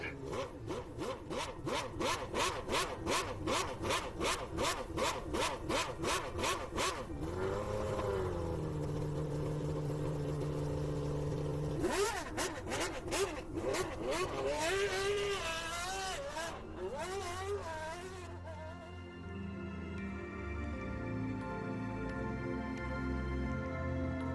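A Renault Espace F1 1995 race car in Gran Turismo 7, its engine note rapidly pulsing at idle before climbing through sweeping revs with gear changes, loud and close, then settling into a lower rumble.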